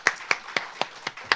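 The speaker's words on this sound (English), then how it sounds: "Please give another big round of applause to our moderator and 3 panelists." Six evenly spaced hand claps ring out from a small audience after a campus panel session with a moderator and three panelists, sounding sparse and clear rather than like a full ovation.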